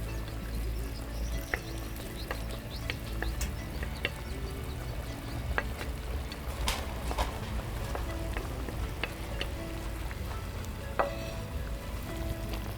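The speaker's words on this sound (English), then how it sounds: "I will now add my spring onions here. The red onions." Spring onions and red onions sizzling in a pan for jollof rice with lamb sauce, heard as a loud, dense, continuous fry close by, dotted with small pops and crackles throughout.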